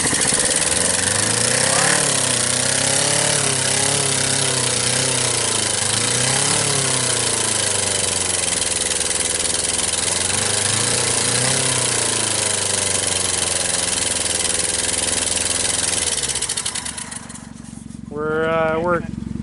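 A small engine running roughly on only two of its cylinders while being fed orbeez, a loud, steady uneven chugging drone that cuts out near the end, leaving a brief lighter clatter.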